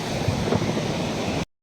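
Sea waves wash onto the shore beside a coastal road with wind buffeting the microphone, a continuous close rush that cuts off abruptly.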